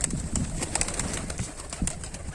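Pigeons coo and shuffle on a rooftop loft, a close, continuous murmur of soft calls without speech.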